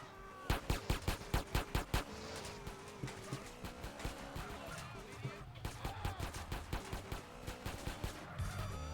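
Gunfire in Grand Theft Auto: San Andreas, a rapid string of loud sharp shots followed by scattered bursts and background game noise, with people talking over it.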